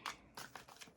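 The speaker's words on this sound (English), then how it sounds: "I'm just doing a quick shuffle here" Quick shuffle of a tarot deck during a divination reading, a series of short papery riffling bursts in an uneven rhythm, close and soft.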